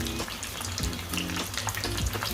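Pork pata deep-frying in hot oil crackles and sizzles steadily and close, with bursts of popping over a continuous bubbling hiss.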